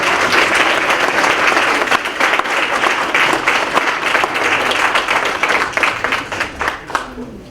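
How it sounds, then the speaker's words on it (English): An audience at a Peekskill candidates forum applauds, dense close clapping that holds steady and then thins out toward the end. "Give a round of applause"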